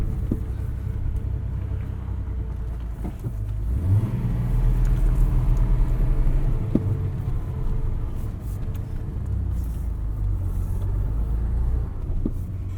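A 1971 Datsun 240Z backing slowly into a driveway, its engine idling with a low steady rumble that swells slightly as it moves, with a few light clicks and knocks over the drone.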